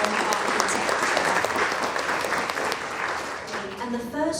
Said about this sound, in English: a big round of applause once again, welcoming all the panelists for this first panel discussion on architecture